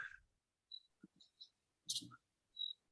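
A clicky retro-style keyboard sits close to the microphone, giving sparse, crisp key clicks in small irregular bursts separated by silence.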